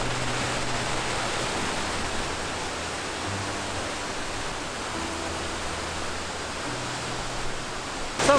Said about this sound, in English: I'm literally standing in the middle of the waterfall right now